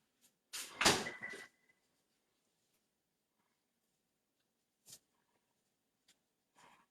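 Refrigerator door on a home kitchen fridge with shelves in the door, opened and shut with one loud close thump, then a few faint soft knocks in a quiet room.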